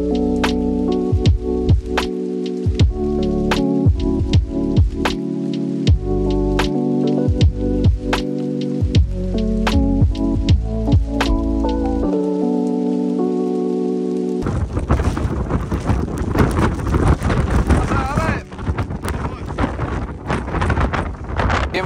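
Steady rain falls outdoors as a dense, loud hiss that takes over after a stretch of plucked, melodic music, with gusty wind rumbling across the microphone.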